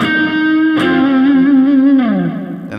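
Electric guitar lick played through effects with distortion and reverb, a sustained bent note sliding downward over a few seconds, close and loud with no voice.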